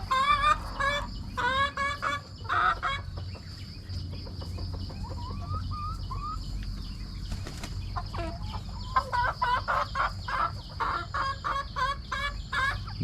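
Several chickens cluck and chatter close by in bursts while feeding, with occasional wing flaps and a steady low background hum.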